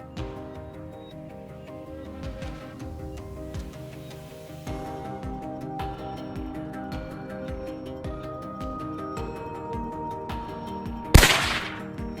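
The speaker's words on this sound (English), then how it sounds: "The moment the boar slowed down, I squeezed the trigger." A rifle shot from a boar hunt cracks out once, loud and sudden near the end of a long stretch of quiet, droning music.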